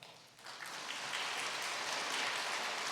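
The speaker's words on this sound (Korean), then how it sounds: "나오실 때 박수로 맞아 주시면 감사하겠습니다" A church congregation at a Sunday worship and gospel revival meeting applauds an arriving preacher. The clapping starts soft, then swells within a second into dense, steady applause from many hands that fills the room.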